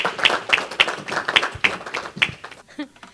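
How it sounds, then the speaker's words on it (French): Several distinct, rhythmic claps ring out about twice a second at a garden conference welcoming a speaker, fairly close and sparse, before fading into quieter sounds near the end. "welcome with a lot of clapping."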